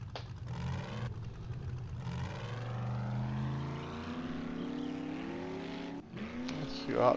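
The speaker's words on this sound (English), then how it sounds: "Driving around till we find some wildlife, and then we can kill it." A vehicle driven in the game 7 Days to Die with the Darkness Falls mod gives an engine hum that rises and falls in pitch as it revs, heard fairly close with a brief cut near the end.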